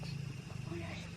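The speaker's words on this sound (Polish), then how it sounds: "Słyszycie jak mruczy?" A cat purrs up close, a low, rhythmic rumble held steady, a soft pulsing drone with no words spoken over it.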